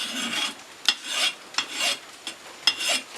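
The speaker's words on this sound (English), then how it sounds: "So with a file test, when it gets hardened, it actually will the file will skate across it, as opposed to actually digging into it." A metal file rasping across the hardened steel of a double bit axe, five or six short scraping strokes in an even back-and-forth rhythm, close and distinct with no talk.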